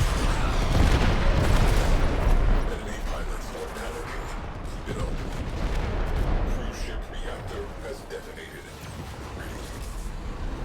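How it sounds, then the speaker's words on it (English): Missiles launch and detonate in the space combat game Warframe, a dense, loud roar of overlapping blasts and rumbling booms that stays continuous throughout, heaviest at the start, with a voice talking in places. "Missiles away."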